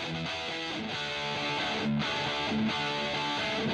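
Electric guitar played through a Boss Katana amp with its 400 Hz parametric EQ band boosted, giving a steady, sustained distorted tone with ringing chords that shift every second or so, continuous and fairly loud.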